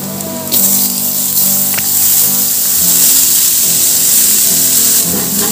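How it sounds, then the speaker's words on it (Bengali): Chopped ash gourd drops into hot oil with frying onions and chillies, setting off a loud, steady hiss and sizzle close by that carries on throughout with no talking. "এইবার কুচিয়ে রাখা এই চাল কুমড়োটা দিয়ে দেবো।"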